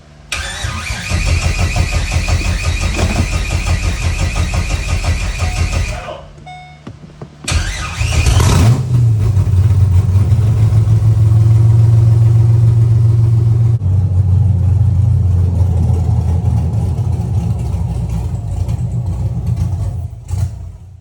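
C5 Corvette drift car engine cranking and catching, running loud and rough, dropping out briefly, then restarting and revving before settling into a steady, heavy idle, close by.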